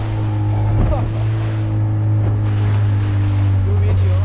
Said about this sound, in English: Here we have some waves. Look, another one coming.